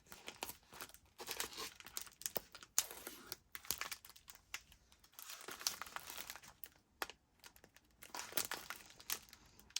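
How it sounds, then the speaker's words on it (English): An unopened plastic package of white eyelet trim is crinkled and torn open, giving close, quiet bursts of crackling plastic with short pauses between them. "This is an unopened package of white eyelet trim. Let me go ahead and open it."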